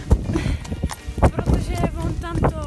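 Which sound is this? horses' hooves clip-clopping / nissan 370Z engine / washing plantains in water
horses' hooves clip-clopping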